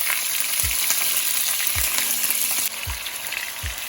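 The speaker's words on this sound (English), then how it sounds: "So I'm going to add the tofu and I'll put it all flat in my oil." Tofu pieces laid flat in hot oil to fry, a bright, continuous sizzle close by with a few soft thuds as pieces go in, no talking.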